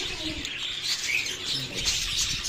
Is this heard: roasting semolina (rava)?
no